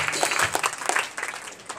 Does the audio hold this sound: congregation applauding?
yes